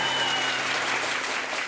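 Hindi stand-up comedy audience bursts into sustained, dense applause for Ehsaan Qureshi, a steady wash of many hands clapping at once that holds strong and then tapers slightly at the end.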